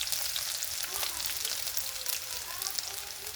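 Onions fry in a pan with bay leaves as the base for a homemade mutton curry, giving a steady, close, bright sizzle with crackling pops throughout.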